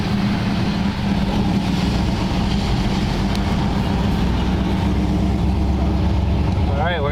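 A 1940 Ford Tudor idles with an exhaust leak, its low steady engine rumble and leaky exhaust puffing running continuously up close, with people talking over it.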